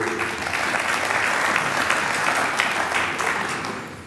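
Audience applause at an award ceremony, a broad, continuous clapping crowd holding steady for several seconds and easing slightly at the end, with no speech over it.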